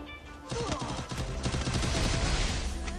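Gunfire in the battle-royale game Free Fire erupts after a quiet half second, a loud, dense run of overlapping shots and impacts that continues to the end.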